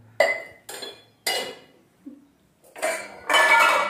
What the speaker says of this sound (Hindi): सारा बर्तन को एक जगह जो है सरिया के रखते जा रहा है।